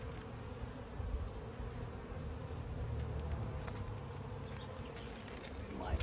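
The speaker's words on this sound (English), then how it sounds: "See lots of bees with pollen on them coming in." Honeybees stream into a hive, their wings making a dense, continuous buzzing drone that holds steady and close throughout, with no talking over it.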